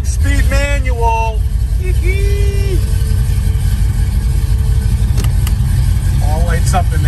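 A 1969 Chevrolet Camaro with a 5-speed manual, heard up close as its engine runs with a loud, steady low rumble. Brief chirps and tones sound over it near the start and end.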